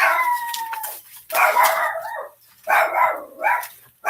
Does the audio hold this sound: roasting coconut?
no